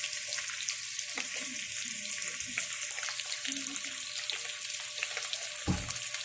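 Meat sautéing in a pan for a mung bean dish, a steady close sizzle with occasional stirring scrapes and clinks, one low knock near the end.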